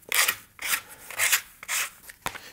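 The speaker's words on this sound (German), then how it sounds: "Und den schleift man noch mal so ein bisschen weg" Sanding away the burr along the edge of a leather hunting bag, heard as four rasping, scratchy strokes in a steady back-and-forth rhythm, close and fairly quiet, with no talk.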